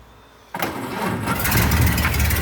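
A 1929 Model A Ford pickup truck catches on the first try with a sudden loud burst, then settles into a rough, steady idle with the engine running close by.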